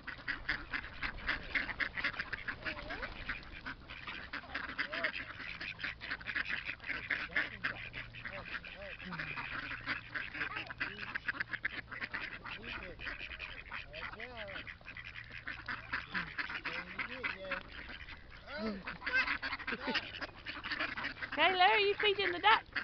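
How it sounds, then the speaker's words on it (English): Ducks quack repeatedly at close range while being fed outdoors, their calls mixed with a voice and adult chatter throughout, with steady background bustle. "you feeding the ducks, Kayla?"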